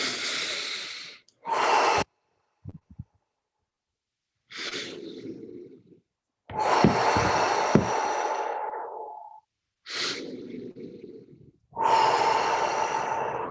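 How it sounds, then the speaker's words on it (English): Deep, slow breathing during a guided breathwork session, with long audible inhales and exhales in separate bursts across the stretch, close and fairly loud with silent pauses between, and no talking. "Start breathing deeper."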